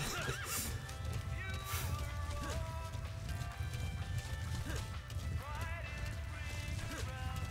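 A horse in the video game Metal Gear Solid V whinnies repeatedly amid clip-clopping hooves and thuds, set against a steady low rumble of game sound.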